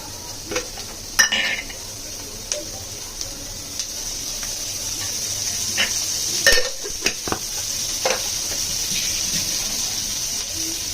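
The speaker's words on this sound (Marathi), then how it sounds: "थोडंसं तेल टाकते मी कांद्यामध्ये." Onions frying in a little oil in a pan give a steady low sizzle, broken by a few sharp clinks and scrapes of stirring, with no talk.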